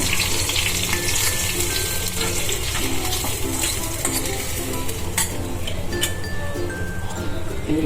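Garlic chutney, green chilies, cumin and curry leaves sizzling in hot oil for masala bhakhari, a steady crackling fry with stirring and clinks of a spoon against the pan.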